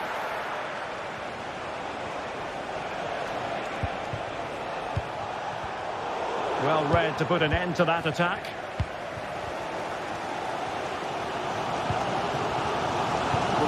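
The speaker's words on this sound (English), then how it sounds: "Well, just listen to this crowd." Stadium crowd roaring steadily in a football video game, with a swelling surge of cheering midway and a commentator talking over the continuous noise.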